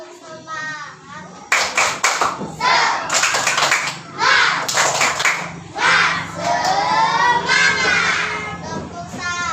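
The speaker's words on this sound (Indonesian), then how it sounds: "Pimpin temannya. Tepuk semangat ya Nela ya" Schoolchildren in a classroom doing a rhythmic 'tepuk semangat' clapping chant, loud group claps in patterned bursts mixed with their chanting voices, starting after a quieter opening and continuing energetically to the end.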